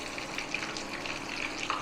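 Chicken strips for a crispy KFC-style recipe frying in hot oil, giving a faint, steady sizzle and crackle throughout, with no talking.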